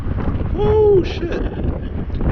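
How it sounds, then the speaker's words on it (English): Wind buffets a microphone at an abandoned industrial site with a huge gas furnace, a steady close rumble of gusts, with a brief tonal whine rising and falling partway through. "I'm getting that wind."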